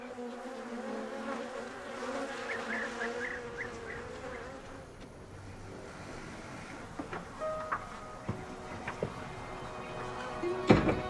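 Bees buzz around a beekeeper's hives in Morocco's Tafilalet, a steady close drone of many insects with sharper clicks and knocks toward the end.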